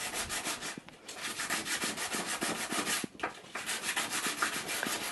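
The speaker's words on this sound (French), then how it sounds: "Et ensuite, on va poncer" Sandpaper is rubbed over a jar lid to roughen it before painting, making close, continuous scratchy back-and-forth strokes with a brief pause partway through.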